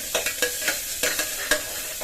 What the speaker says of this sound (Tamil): எண்ணெய் ஊற்றி பட்டை லவங்கம் எல்லாம் போட்டு வெங்காயம்லாம் போட்டு நல்லா வணக்கிட்டு